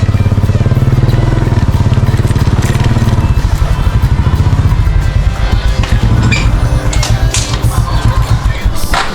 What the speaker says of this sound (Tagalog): Motor ni Pula